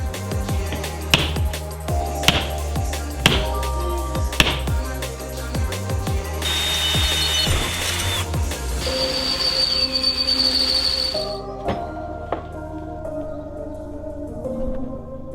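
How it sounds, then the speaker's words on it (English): Drill working through stainless steel stock while making dice, a series of sharp rhythmic metallic bursts followed by a sustained high grinding whine and ringing tones, close and loud with no talk. "So now the drilling's done"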